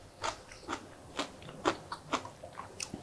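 Crisp, close crunching bites of a bean sprout and Korean melon salad dressed with mild mustard, about seven sharp crunches in a steady chewing rhythm with no talking.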